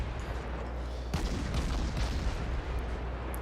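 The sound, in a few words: ship guns firing in a naval video game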